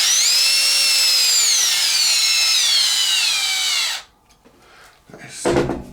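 A power drill whines loudly at high speed for about four seconds during repair work on an RC car, its pitch sliding downward as it spins, then stops, followed by quieter scraping and a short burst of noise.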